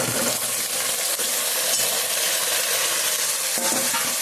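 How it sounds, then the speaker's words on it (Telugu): Broad beans tipped into a pan of sizzling onions and green chillies, with continuous loud frying hiss and the scrape of stirring close by. "ఇప్పుడు ఇందులో అయితే ఇదిగోండి చిక్కుడుకాయలు"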